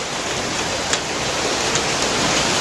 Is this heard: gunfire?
no